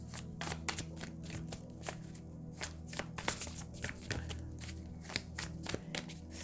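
Tarot cards are shuffled by hand in a rapid, steady run of crisp riffling snaps and soft slides, close and fairly quiet, with no voices.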